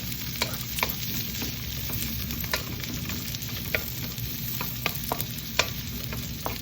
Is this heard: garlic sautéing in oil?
yes